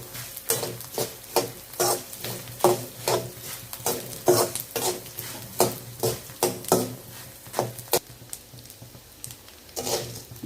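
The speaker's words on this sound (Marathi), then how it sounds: "डिंक आपला तळून झाला आहे" Edible gum frying in ghee in a pan, with a steady crackling sizzle and repeated rhythmic scrapes and clinks of a spoon stirring against the metal, close up and without talk.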